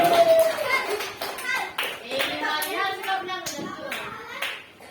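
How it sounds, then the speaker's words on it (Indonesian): A group of children at a Quran school celebration clap their hands in an irregular, patchy burst of taps, with children's voices talking and calling out over and around the clapping. "Tepuk tangan berjalan."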